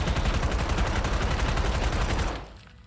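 Rapid, dense gunfire in Black Ops 7, close and loud, continuous for over two seconds before tailing off; the weapon is the Ion X3 three-round burst sniper rifle.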